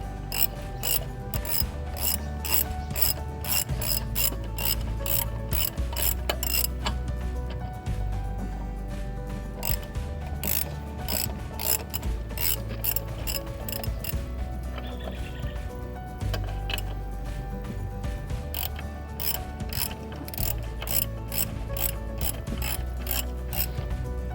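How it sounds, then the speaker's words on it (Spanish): A ratchet fitted with a 12 mm socket loosens bolts on the engine of a 2000 Mitsubishi Montero Sport during ignition work. It gives steady, rapid, close-up clicking that runs throughout, with brief pauses between bursts. "seguimos quitándolo o aflojando los tornillos con el dado 12"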